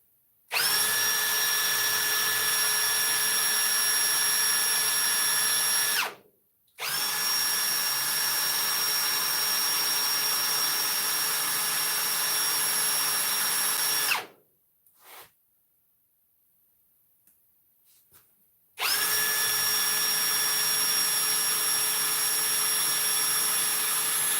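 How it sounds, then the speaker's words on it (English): Power drill driving rib nuts into a 1973 Superglide blower unit, running in two long steady bursts with a short gap between, then stopping and starting again after a quiet pause, loud and close. "I don't think I'll be able to drill truthfully with these braces in the room"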